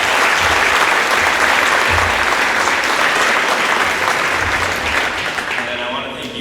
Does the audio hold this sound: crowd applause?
yes